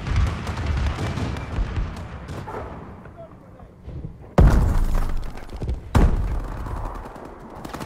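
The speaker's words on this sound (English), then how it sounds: "Friendly bombing run incoming." Bombing run explosions in Call of Duty: Advanced Warfare multiplayer, with rumbling gunfire and blasts and two sharp, loud impacts landing a second and a half apart near the end.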